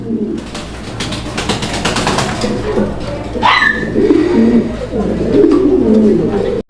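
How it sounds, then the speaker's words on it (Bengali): A pair of Lahori shocking fancy pigeons coo in low, soft murmurs that grow steadier toward the end, set against a busy background hum with faint voices. "এই মুহূর্তে দেখাচ্ছি আরও একজোড়া শোকিং কবুতর"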